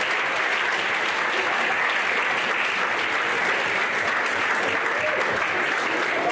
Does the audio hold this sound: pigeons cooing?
no